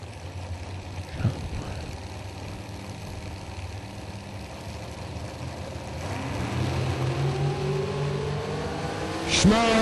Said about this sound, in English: First all dragster pair of the round.